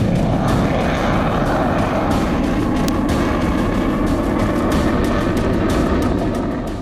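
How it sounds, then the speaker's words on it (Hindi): Indian Air Force fighter jets fly low over the Purvanchal Expressway, a loud, continuous roar that fills the whole clip without easing, a broad rumbling engine wash from nearby aircraft with no voices heard. "हवा में लहराते और गरजते हिंदुस्तान के फाइटर जेट।"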